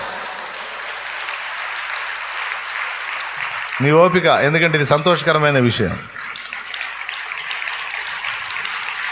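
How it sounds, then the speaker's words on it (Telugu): A church congregation claps joyfully, a steady wash of many hands running throughout, while a voice speaks loudly over it partway through. "సంతోషంగా చప్పట్లు కొట్టుకోండి"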